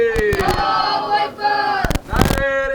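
A crowd at a religious celebration for the birth of Imam Mahdi on the 15th of Sha'ban roars its chanted response to a leader's call, loud and sustained, with a shouting voice and scattered bangs over it.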